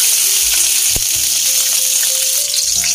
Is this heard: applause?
no